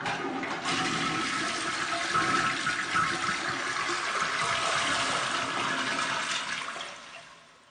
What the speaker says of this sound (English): I had to flush my goldfish down the toilet